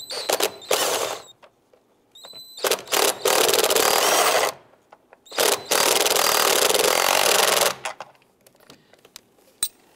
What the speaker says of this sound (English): grab your wrench and your socket here and snug that down